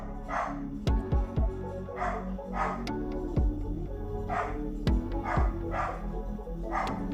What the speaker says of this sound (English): You hear the dog?